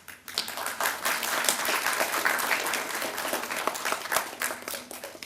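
Audience at a karate black belt certification ceremony at the Indian Embassy in Muscat applauds steadily for about five seconds, a dense, even wash of many hands clapping indoors at moderate volume.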